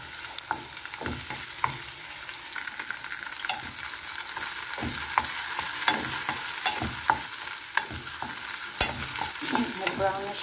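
Cubed pork frying in a pan for a beansprout stir-fry, a steady close sizzle broken by repeated sharp clacks and scrapes of stirring.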